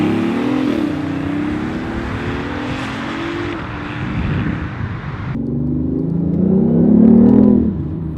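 A BMW i8 hybrid supercar accelerates hard, its engine note rising steadily through the gears with a brief shift break, then climbing again loudly and close before easing off.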